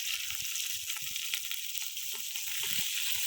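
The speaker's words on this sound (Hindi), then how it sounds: "अब हमने इसमें प्याज डाले हैं" Finely chopped onions sizzle steadily in ghee in a pan, a close, continuous hiss with faint crackles and occasional soft stirring knocks, with no voice over it.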